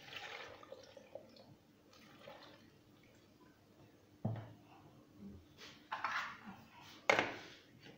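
Milk pours into a container while a Ramadan fruit cocktail drink is made in a home kitchen, with soft trickling and splashing bursts rising and falling over about eight seconds, the loudest gushes near the end.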